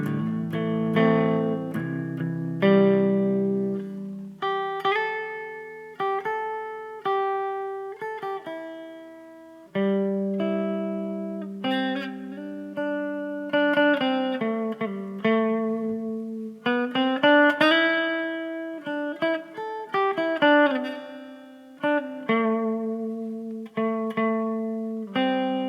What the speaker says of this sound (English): Had to take a quick tune break there.